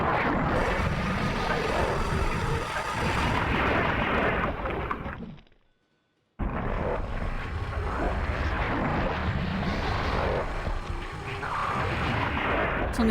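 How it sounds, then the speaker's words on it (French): Gunfire and heavy booming blasts in Resident Evil 2 as Claire's character shoots at the ground, loud and continuous, with a brief dead silence in the middle before the dense firing and rumble resume. "Mais mon perso il tire au sol."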